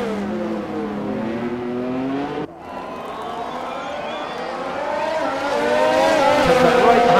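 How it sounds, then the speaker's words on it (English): A Formula 1 car in the F1 2020 racing game at the Belgian track screams through rising revs close by, a brief dip at a gear shift, then climbing steadily louder with faint tire and crowd noise underneath. "Comes up right behind George Russell's racing car"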